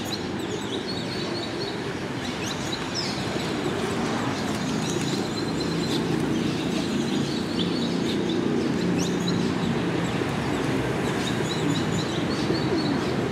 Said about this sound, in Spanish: Los palomos siempre están cortejando